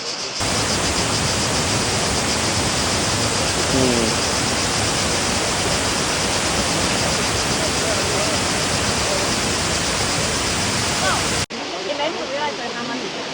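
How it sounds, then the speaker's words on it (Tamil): Small waterfall at Kravica in Bosnia, a steady, dense roar of falling water heard close and loud, continuing unbroken before dropping slightly in level near the end. "தண்ணி விழுந்து கொண்டிருக்குது அங்கே தூரத்தில்"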